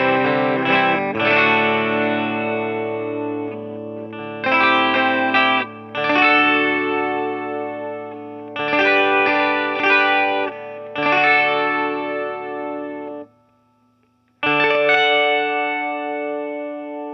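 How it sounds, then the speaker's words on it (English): Bright, shimmering chords from an Ibanez Artcore AS7312 12-string semi-hollow electric guitar with a new nut and bridge ring out in several strummed phrases with sustained tails, separated by brief pauses, one near-silent gap before a final chord. "The 12-string finally got modded with a new nut, a new bridge, and it sounds real sweet"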